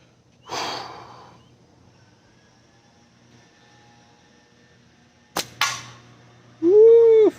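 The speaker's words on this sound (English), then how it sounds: "Well, I hit a can, but it wasn't the one I was aiming for." A slingshot firing a 1/4 inch steel ball that strikes a can: a soft release thump, a long quiet gap, then a sharp double metallic crack of the hit, followed by a brief whoop.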